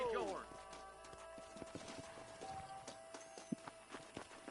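Horse hooves clip-clop in the western video game Red Dead Redemption, with a neigh at the start, then irregular hoof taps and thuds under faint background music.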